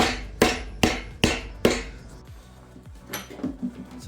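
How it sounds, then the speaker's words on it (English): A hammer's back taps an engine seal into a Datsun Z L28 block during a rebuild, four sharp metallic knocks in steady rhythm, then quieter clinks and shuffling of parts nearby. "tap it in with the back of my hammer"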